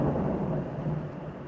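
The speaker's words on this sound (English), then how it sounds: "just heard the loud thunderstorm in my background" A loud thunderstorm in the background, a steady low rumble of thunder that rolls on without a break and slowly fades a little.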